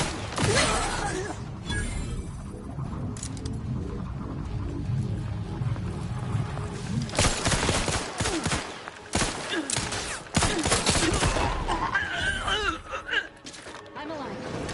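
Gunfire in the shooter game Outer Worlds 2, with loud bursts of shots and impacts mixed with roaring creatures and game voices, dense and chaotic throughout.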